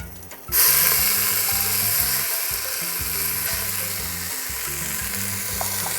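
Onions hitting a hot pan with garlic, bursting into a loud, steady sizzle that holds under background music.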